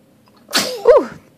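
A baby sneezes once, close and fairly loud: a sharp intake followed by a brief burst and a fading tail, with no talk during it.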